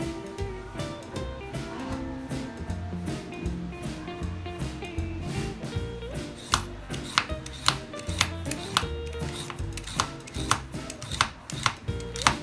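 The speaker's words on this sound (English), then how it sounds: "So I'm just peeling my carrot." A carrot being peeled by hand for a turkey stuffing in a home kitchen, a run of quick scraping strokes that grows sharper and more regular in the second half, close by and without speech.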